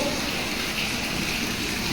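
Water gushes steadily from a pipe at a farm well, a loud, continuous broadband rush with no break.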